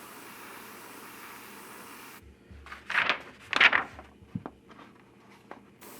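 An airbrush spraying blue paint onto a quarter-scale Aquaman figure lets out two short hissing bursts close by, followed by a few faint clicks and quieter puffs against a near-silent background.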